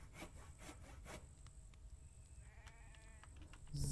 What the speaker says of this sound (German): Aber das will alles erstmal gesägt werden.